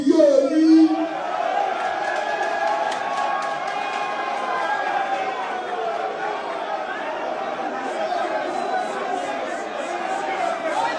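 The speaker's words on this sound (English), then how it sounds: "there are a lot of people in the background there that are clapping and screaming as if the man just gave every single person money" At a Nigerian political rally a large crowd roars, whoops and claps in a loud, sustained wall of cheering and chatter, opening with a sharp shout and holding steady throughout.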